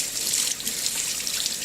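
A tap runs steadily as water rinses a dog leash, a continuous hiss and splash with faint dripping and no voices.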